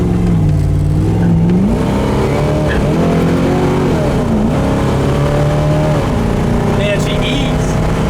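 A 1970 Camaro engine roars loud and close, revving up through rising and falling gear pulls in a continuous growl as the car accelerates, with tire squeal buried in the din and a voice faintly underneath.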